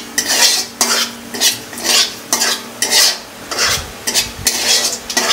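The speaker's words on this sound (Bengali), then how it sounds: "তেজপাতা আর জিরেগুলো আমি একটু নাড়িয়ে চাড়িয়ে নিলাম।" Bay leaves and cumin seeds stirred in hot oil for spicy chicken kosha, the utensil scraping the pan in a regular rhythm of strokes over a light sizzle, close and loud without speech.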